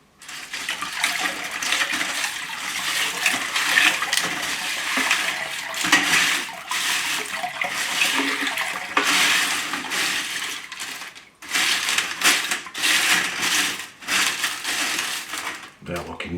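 Water splashes and pours over tumbled mixed rocks as they are rinsed, rattling and clattering in a tub, loud and close with short pauses between bursts, and a voice comes in briefly.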